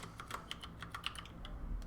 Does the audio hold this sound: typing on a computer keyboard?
yes